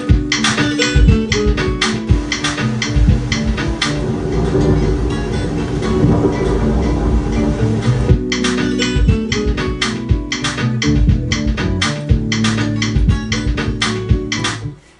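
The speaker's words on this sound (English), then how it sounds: "before the beat comes in, I've made it have like a thunder noise" A music track built around recorded London thunder, with dense layered rumble and rhythmic percussive hits running continuously and loud throughout.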